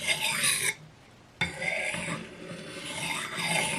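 A knife blade being sharpened along its primary grind gives a close, continuous rasping scrape, broken by one short pause before the strokes resume and carry on to the end.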